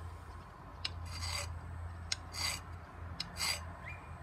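A hand file rasps across the soft spine of a knife in a few short strokes of gritty scraping, close and fairly quiet, over a low steady hum, with no talking.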